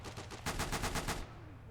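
Rapid machine gun fire from a British MG operator in the Gates of Hell war game, a loud rattling burst of roughly ten shots that cuts off abruptly, leaving low battlefield rumble.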